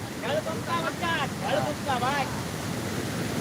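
The Malan river runs high and heavy after rain, a continuous rushing wash heard beneath a voice that talks through the first half.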